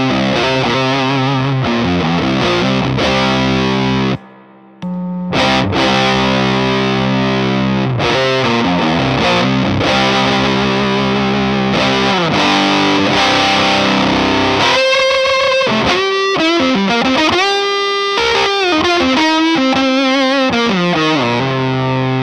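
Electric guitar through a fuzz pedal, heavily distorted and saturated, playing chords and riffs loudly with a brief drop-out near five seconds, solo without talk.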